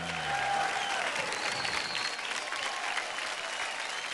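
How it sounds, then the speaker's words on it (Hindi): Loud audience clapping in a dance reality show studio, a dense burst of applause with a brief whistle-like tone early on, sustained evenly throughout. "जोर से ताली।"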